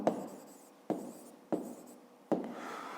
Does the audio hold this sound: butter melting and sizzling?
no